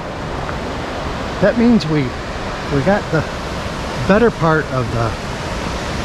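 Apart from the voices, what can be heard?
waterfall at Cloudland Canyon, Georgia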